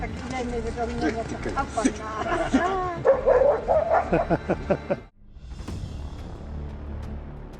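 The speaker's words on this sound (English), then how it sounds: "The dog actually chases the hungry bear away" A large dog yips and barks in quick bursts while chasing off a hungry bear, the barking loud and close over a steady outdoor rumble before cutting out briefly and resuming more faintly.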